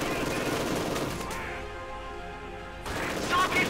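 MG-42 machine gun fire in Company of Heroes 2, a loud dense stream of bursts mixed with other battle noise, easing in the middle and picking up again near the end.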